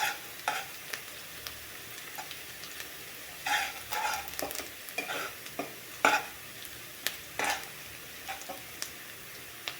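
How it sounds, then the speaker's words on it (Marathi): Sliced onion frying in oil in a pan for mushroom masala, with a steady sizzle and repeated bursts of stirring scrapes spread across the whole stretch, fairly close and with no talking. "थोडा कांदा गुलाबी रंगावर भाजला की आपल्याला त्याच्यामध्ये मसाले टाकायचे"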